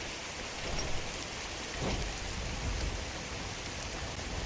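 Steady, dense rain pours in the video game Skyrim, with low thunder rumbling beneath it. The downpour fills the whole stretch evenly, and no one speaks.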